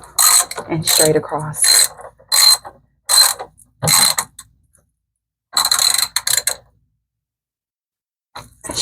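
A ratchet cranks bolts on a Samsung washing machine in several quick bursts of clicking, separated by short pauses, with a voice speaking briefly.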